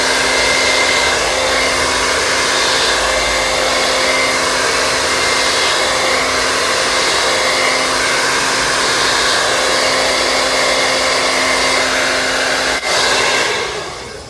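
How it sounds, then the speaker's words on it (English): A hair dryer blows steadily and loudly during a hair blowout, a constant whooshing hum from start to finish that stops near the end. "Follow the blow dryer, follow the brush with the blow dryer."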